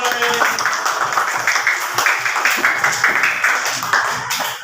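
A classroom of students claps together, a dense, steady patter of hand claps that stays loud for several seconds with only small swells and no break.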